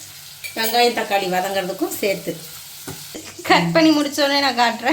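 Garlic, ginger, onion and tomato sauté in a hot pan for a chicken heart curry, a steady sizzle running beneath someone speaking Tamil almost throughout.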